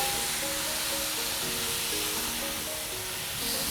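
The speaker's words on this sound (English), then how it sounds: "it's going to sizzle and the sesame oil will take over." Beef strips stir-frying in sizzling sesame oil for Chinese-American lo-mein-style pepper steak, a steady close hiss throughout with no talk, though background tones run underneath.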